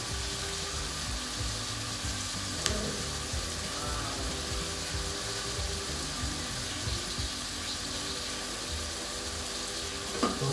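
Oil sizzles steadily in a pan as matar paneer fries, a quiet even hiss with a couple of sharp clicks along the way.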